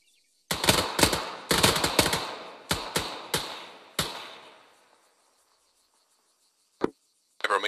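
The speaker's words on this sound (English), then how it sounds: "you will fire 2 rounds at the left target, followed by 2 rounds at the right target" L131A1 pistol shots ring out on an Arma 3 firing range, a quick series of about nine sharp, loud reports in small groups with echoing tails, then silence and a couple of late bursts.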